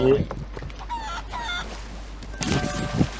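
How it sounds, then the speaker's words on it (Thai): A chicken in the pirate video game Sea of Thieves clucks and squawks in short loud bursts, with game sounds around it. "ไอ้ไก่"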